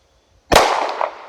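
A single sharp gunshot from a Mossberg MC2sc pistol at a shooting range, loud and close, with a quick crack and a short decaying tail.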